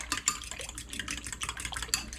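Eggs with a splash of water are whisked in a bowl, giving quick, light, wet clicking and sloshing strokes in a steady rhythm, close up and with no voices.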